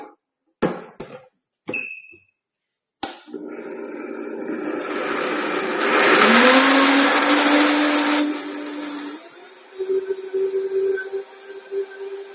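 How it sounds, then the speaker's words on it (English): A Vitamix blender purees blanched corn in a home kitchen: a few short knocks and pulses first, then a loud sustained roar that rises in pitch and later settles into a lower, steadier whir. "my Vitamix blender, and then we're blending this guy till it's really nice and smooth"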